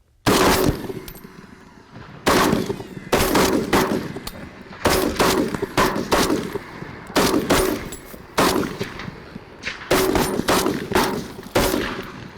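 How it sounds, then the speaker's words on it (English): Rapid gunfire from several hog hunters shooting at night, loud bursts of close overlapping shots repeating in clusters across the clip. "And we're just blasting and shooting."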